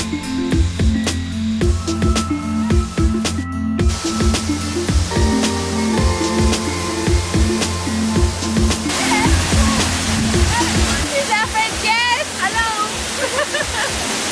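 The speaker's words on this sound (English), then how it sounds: "as we made our way up to the waterfall" A waterfall at Cascades, reached by a forest trail, roars steadily through the whole stretch with broad rushing water noise, while voices and a harmonic music-like drone sit over it.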